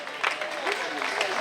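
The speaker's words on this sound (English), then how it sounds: "Big round of applause for Jean Brune." Brief applause from a crowd at an annual senior picnic, a short burst of scattered clapping heard outdoors at moderate distance.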